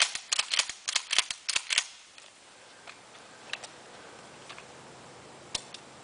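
Rapid bursts of gunfire from a carbine and a shotgun fired dry in quick succession, sharp loud cracks clustered over the first two seconds, followed by a few isolated fainter clicks and pops with no talking.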